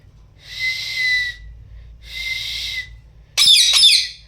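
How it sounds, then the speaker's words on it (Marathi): Two breathy, airy whistle-like blasts come first, then a parrot's sharp, warbling whistle with quick pitch slides, all close and fairly loud against quiet. "असं वाजव शिट्टी"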